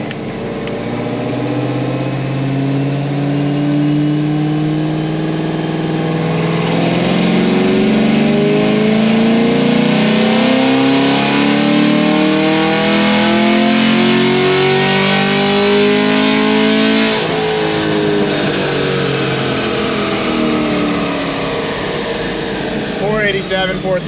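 A car engine with an aftermarket cam and headers revs hard and steadily climbs through a full dyno pull, loud and close, with a rising harmonic whine throughout.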